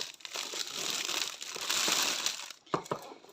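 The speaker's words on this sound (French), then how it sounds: "Alors, on va déballer." Crinkling plastic packaging being unwrapped from a purple storage box for diamond painting supplies, a steady close rustle and crumple for about two and a half seconds, then a few sharp separate crinkles.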